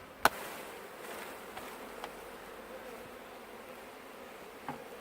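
Honeybees buzz in a steady, faint drone around hives during a honey harvest, with a few sharp knocks and taps from handling frames and equipment, and no voices.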